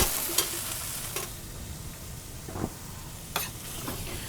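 Tomato sauce sizzles quietly in a pan with mushrooms, punctuated by a few sharp scrapes and clinks of a utensil at scattered moments, with no talking.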